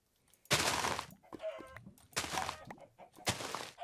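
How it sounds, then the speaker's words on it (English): Chickens cluck in a video game world, several squawking bursts in short succession, fairly close and loud, with no speech. "I found a lot of chickens."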